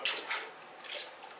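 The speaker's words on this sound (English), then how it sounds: "I'm going to put the glaze on the inside, like that, swirl it around and now pour it out." Liquid glaze swishes and pours out of the inside of a bone-dry pottery piece in a brief, splashy gurgle with soft trickling, close and alone.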